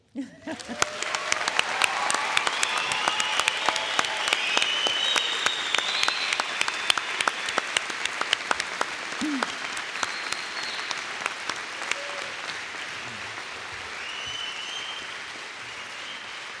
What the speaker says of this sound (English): will you join with me in a collective round of applause and let's make some noise